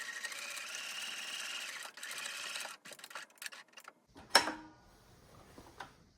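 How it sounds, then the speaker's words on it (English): A sewing machine runs steadily, stitching closed the gap in a pants waistband. It whirs in two long runs, then slows into short stop-start bursts, followed by a sharp click and quiet handling. "you're gonna wanna sew up this gap that you made"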